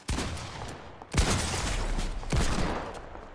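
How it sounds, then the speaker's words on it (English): Rapid bursts of hand cannon gunfire in the video game Fortnite, several loud volleys fired in quick succession with brief gaps between them and no talk over them. "I literally hit you with the hand cannon"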